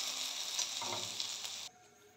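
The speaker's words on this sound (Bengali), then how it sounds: "আলুগুলোকে এবার আমি একটা পাত্রে তুলে নেব" Fried potatoes lifted out of hot oil in a pan, a steady close sizzle with soft scraping of a spatula, ending abruptly as the frying noise drops away.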